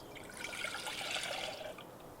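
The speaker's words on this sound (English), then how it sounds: "So I'm starting out with 2 cups of dill pickle juice." Dill pickle juice pours steadily into a bowl while a Memphis-style rib mop is mixed, a soft continuous liquid splash and trickle lasting about two seconds at moderate, close range with no talking.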